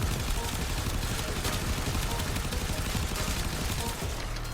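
An Acceltra weapon firing continuously in Warframe, a dense, unbroken wash of rapid blasts and explosions that stays loud throughout, with a voice talking over it.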